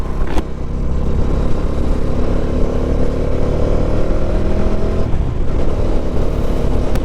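A Bajaj Dominar motorcycle is ridden on the road: a loud, steady engine drone with heavy wind rush, and the pitch shifts partway through as the rider changes speed.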